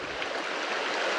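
Runoff water rushes steadily down a drainage beside a hiking trail on the Dockery Lake Trail, a broad, continuous hiss of flowing water that stays loud and close throughout, with no voices.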